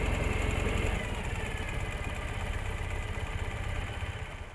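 Ural CT sidecar motorcycle engine running: a steady, close, rhythmic thumping idle with a low pulsing throb that fades slightly toward the end.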